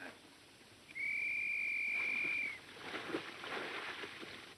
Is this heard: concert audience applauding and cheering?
no